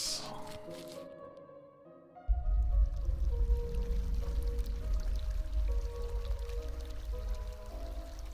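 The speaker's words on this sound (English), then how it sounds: "Now we have water running down the stream to where it needs to be" Water pours and runs down a stream in the Habromania video game, entering abruptly after a quieter start and then flowing steadily and fairly loudly under light game music.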